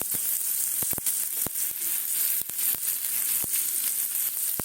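Potatoes frying on top of onions in a pan for a mixed vegetable chorchori with pui leaves and lentil dumplings, giving a steady close sizzle broken by sharp crackles and pops.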